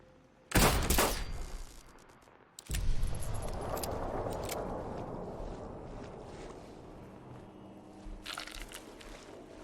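A double-action hunting revolver fires in Fallout 4. Two loud, sharp blasts come a couple of seconds apart, each followed by a long, rumbling tail that fades slowly.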